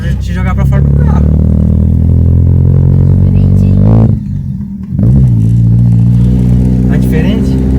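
A Chevrolet Astra car with a straight-pipe exhaust revs loud and close, its harsh engine drone holding steady, dropping briefly near the middle, then climbing back.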